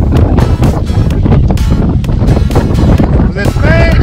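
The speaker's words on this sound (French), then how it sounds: "Il pleut, il y a beaucoup de vent." Strong wind buffets the microphone outdoors in rainy Iceland, a loud, rough roar that gusts and swells throughout, with people talking underneath.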